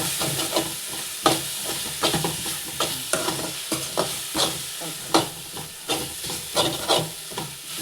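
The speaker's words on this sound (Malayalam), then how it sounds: "ഒന്നും കൂടി ഉള്ളി ഇടണം ഒന്ന് വാടും കേട്ടോ ചെറിയ തീ കുറച്ചിട്ട് മതി വരട്ടെ" Onions sizzle and crackle in a hot pan over a low flame, with a spoon or spatula stirring and scraping in an uneven rhythm throughout.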